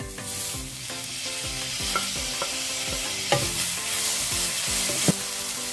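Onion and tomato fry with curry leaves in a pan for Goan crab xec xec curry, giving a dense steady sizzle with a few brief stirring knocks. No one speaks.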